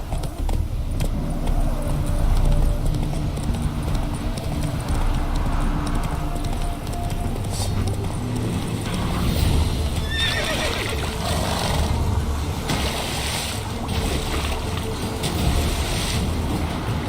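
A horse whinnies while its hooves clip-clop in a Witcher 3 video game ride, under steady wind-and-water ambience that carries a continuous loud wash. The neigh rises briefly in the middle.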